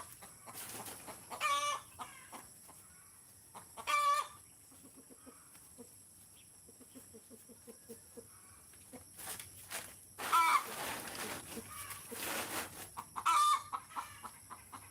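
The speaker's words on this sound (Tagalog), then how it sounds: "Huwag kayong maingay dyan, mga manok." Chickens cluck in short bursts with a rooster crowing a few times, fairly close, over a quiet farmyard background.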